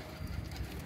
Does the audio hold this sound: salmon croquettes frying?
no